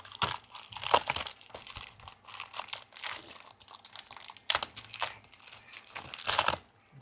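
Plastic package being opened to take out motorcycle O-rings and keepers, close crinkling and rustling in irregular bursts with some louder crackles.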